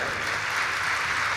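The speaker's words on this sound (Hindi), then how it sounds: "और फिर ताली बजा भैया" An audience of devotees at a Bageshwar Dham Sarkar religious gathering claps in sustained, even applause, many hands blending into a dense wash of sound.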